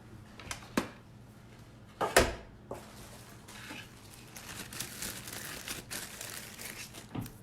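Paper is crumpled and crinkled by hand to distress it for a craft piece, giving faint, close, irregular rustling with a few sharper crackles and no voices.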